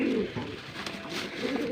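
A male pigeon coos in low, throaty bursts, a couple of rolling calls close by within a short stretch, with no talking.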